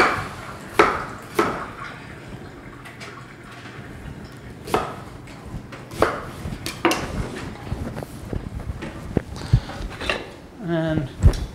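A whole peeled onion gets a rough chop with a knife for pear and parsnip soup: irregular sharp blade knocks on a board, spaced and then quickening, with pot and utensil clatter near the end.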